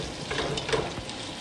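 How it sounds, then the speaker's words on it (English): Vegetables for a potato soup sweating and simmering in a pot, giving a soft, steady sizzle and bubbling that stays even and close for the whole stretch with no talk. "we don't want to burn it, we just want to sweat it. And we'll let this simmer"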